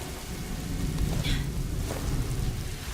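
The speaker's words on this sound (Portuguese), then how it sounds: "Olha só, a chuva" Steady rain falling in the video game A Plague Tale: Innocence, a dense continuous hiss with a faint low rumble beneath, fairly loud and alone without voices.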